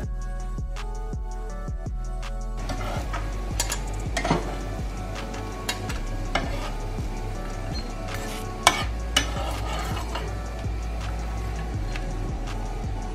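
A vegetable mixture for a winter weight-loss recipe sizzles steadily in a pan on the stove while a spoon scrapes and stirs, with sharp clinks of utensil against pan over a constant frying hiss.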